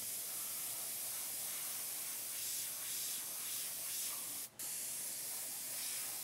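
An airbrush sprays paint while an eye is being painted, giving a steady, close hiss of air that runs almost without a break. A brief cutoff comes near the end before the spray resumes.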